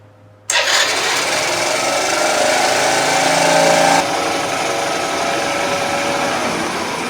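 Honda C70 motorcycle engine idling steadily after starting, a continuous loud mechanical drone with a slightly high idle that holds for several seconds, close by with no talking.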